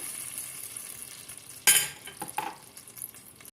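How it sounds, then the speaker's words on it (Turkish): Halva roasting in butter and oil in a pan, a steady soft sizzle with a sudden bright hiss and scraping as it is stirred, then clinks and shuffling stirring noises, close and fairly quiet. "Ve şimdi helvamı kavuruyorum."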